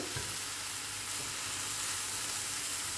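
Finely chopped vegetables, including grated peppers, sizzling and frying in a pan for Egyptian eggah, a dense continuous hiss close up with soft stirring underneath.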